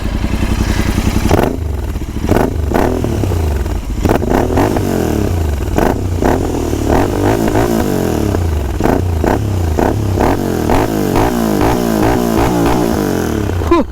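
A Royal Enfield Interceptor 650 with a custom-tuned Race Dynamics DB Killer exhaust, revved up close and loud: a throaty idle breaking into repeated sharp blips and climbing roars, no talking.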